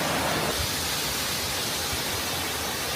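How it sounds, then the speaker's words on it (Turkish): Rushing water at Oylat Waterfall, a steady broadband roar holding constant for the whole stretch with no other sounds on top. "Oylat Şelalesi bu arkadaşlar."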